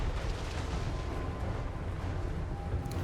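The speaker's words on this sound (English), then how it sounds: "that's a scary sight marching towards you and firing those multi-shot cannons" Necrofex Colossus war machines fire multi-shot cannons in a Total War: Warhammer 3 battle, giving a steady, dense rumble of distant booming cannon fire with no clear single shots.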